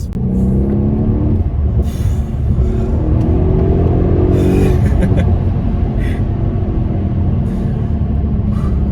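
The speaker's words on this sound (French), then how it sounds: "tu sens la machine du V8. Tu sens donc les 5 litres 5 en train d'être brassés" A Mercedes CLS63s AMG with a 5.5-litre V8 accelerates hard from inside the cabin, a loud, steady engine drone with rising tones as it pulls through the gears.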